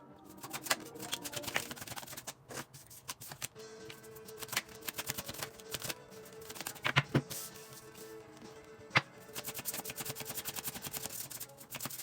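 Tarot cards being shuffled close up, quick riffling and soft slapping in irregular bursts, with faint rustling between.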